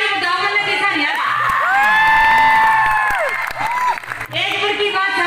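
Audience at a Haryanvi comedy show during the Haryana Pradesh Ratnawali festival claps, cheers and whoops loudly, with a shrill shouted voice riding over the crowd noise near the middle.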